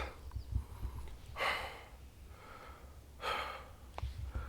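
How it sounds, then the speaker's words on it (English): Hard, heavy breathing of a hiker on a forest trail, close to the mic, with two long loud exhales standing out among quieter gasps and rustling. "I'm breathing hard."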